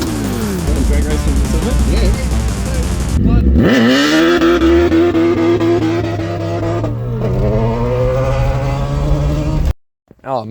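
A drag-racing Toyota Corolla fitted with a Hayabusa motorcycle engine warms up on its trailer, its engine loud and close, revving up and down in rising and falling sweeps before cutting off abruptly.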